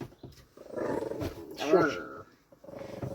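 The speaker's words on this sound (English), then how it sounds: "Stupid dog, come here." A dog growls and barks close by in rough bursts, mixed in with continuous talking.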